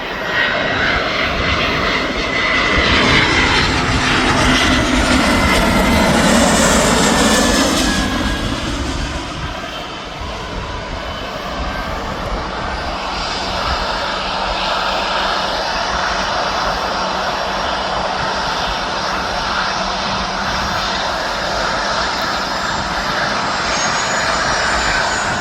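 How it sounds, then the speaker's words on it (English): Lufthansa Airbus A319 jet arriving from Munich at Birmingham airport, a loud roaring engine whine that sweeps past with a shifting pitch, then settles into a steady distant rumble. "This is the Lufthansa A319"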